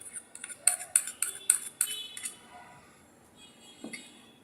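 A metal spoon clinks and scrapes repeatedly against a bowl while mixing turmeric and soybean oil into ginger-garlic paste, a rapid series of bright close taps that fades into softer stirring.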